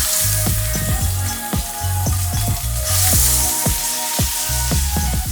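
Prawns laid in a dab of oil in a preheated pan sizzle loudly and close, with a steady hiss broken by repeated clicks and clatters of the pan and the prawns being placed, and no one speaking.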